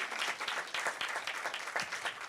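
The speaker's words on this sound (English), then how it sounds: "Let's have another round of applause for Dr. Marco Sharavanya." Audience applause at an open day event, a steady dense patter of many hands clapping throughout, fairly loud and close, with no talk over it.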